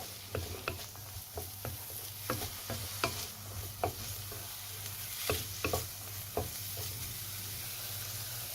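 Beef mince and onions sizzling and frying in a pan for chilli, a steady close hiss with scattered sharp pops and spatters throughout, no talking.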